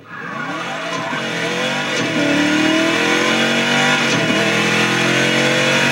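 A race car in the Burnout 3 crash-mode game revs and accelerates hard, a loud continuous engine whine climbing in pitch with gear shifts, alone without talk.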